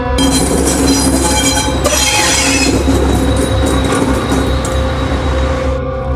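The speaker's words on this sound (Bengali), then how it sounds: "রেল লাইনের ওপার থেকে আসছে এক অদ্ভুত চাকা ঘূর্ণনের শব্দ" Train wheels roll over rails with a loud, continuous rumble and a high metallic squeal that rises and holds, with a dense clatter close by throughout.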